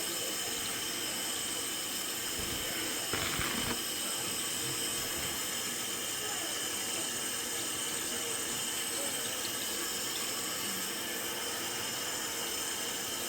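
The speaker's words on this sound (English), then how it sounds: "Little splash." Water splashing and running during a new toilet installation, a steady broadband wash with a brief louder splash near the start and a constant background hum throughout.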